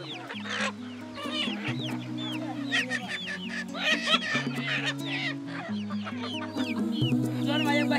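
Chickens cluck and squawk busily at close range, a steady chatter of overlapping calls from several birds, with low background tones running beneath.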